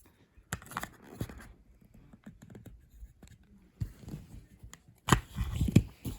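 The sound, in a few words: cutting with sewing scissors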